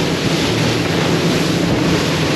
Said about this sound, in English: Occasionally you get a big wave, like this one, and then it kind of smooths out.